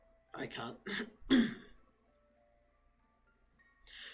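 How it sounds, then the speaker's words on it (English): A person clears their throat with two or three short, rough bursts close to the microphone, followed by quiet. "I had to clear my throat for a moment"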